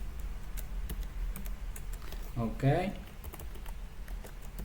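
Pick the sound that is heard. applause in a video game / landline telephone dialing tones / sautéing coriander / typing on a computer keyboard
typing on a computer keyboard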